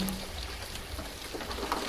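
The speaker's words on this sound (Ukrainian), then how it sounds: "Тільки шум дощу, його заспокійливі звуки" Soft, steady rain patters in a gentle wash of noise, quiet and even throughout with no voices.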